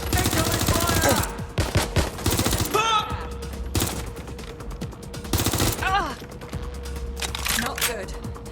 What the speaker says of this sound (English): Taking cover! Incoming fire!